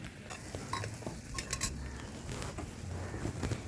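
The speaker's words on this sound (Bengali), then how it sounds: "এটাকে নেড়ে চেড়ে দেবো। 4 থেকে 5 মিনিট মতন এটাকে ভালো করে ভাজবো।" Mutton lung pieces stirred and fried in a pan, a soft continuous sizzle under light scraping and a few sharper utensil clinks near the middle, fairly quiet and close.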